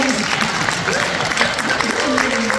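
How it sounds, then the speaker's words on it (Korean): An audience at a film festival congratulatory performance claps steadily, the clapping blending with a crowd murmur and overlapping voices talking above it. "저도 박수 한 번 쳐주세요"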